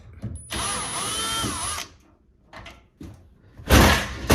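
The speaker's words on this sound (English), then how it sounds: "we're going to unscrew this to pull the top off, which is going to allow us to open up other parts to unscrew the rest" A cordless power drill unscrews screws from the top panel of a washing machine, one long whirring burst followed by shorter bursts and a loud clunk, close up with no talking.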